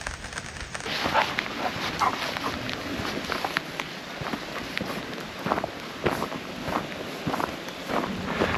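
Steady footsteps on a wet woodland trail at Elkhorn Creek with dogs padding alongside, set against a constant hiss of rain.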